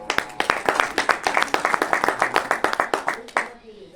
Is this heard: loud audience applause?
yes